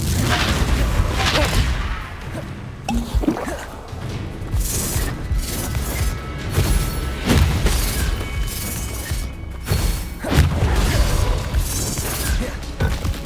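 Repeated booming spell blasts from Confringo and Incendio in the video game Hogwarts Legacy, loud and dense explosive bursts one after another over a continuous rumbling game mix with no talk.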